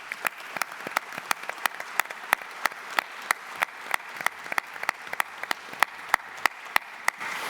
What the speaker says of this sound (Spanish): Pido para él un fuerte aplauso.